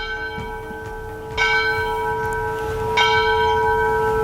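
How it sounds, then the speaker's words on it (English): A bell in the cupola of an old schoolhouse, donated by the Southern Pacific Railroad, rings twice, each clear metallic strike leaving a long ringing hum over faint background noise. "Up on the cupola at the top is a bell. This is the bell that would be ringing"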